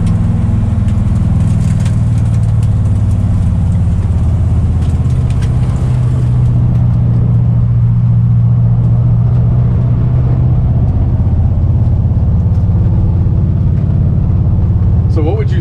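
A car rolls over a rough, bumpy road, its engine giving a steady low rumble with loud, continuous road noise and occasional knocks from the uneven surface throughout.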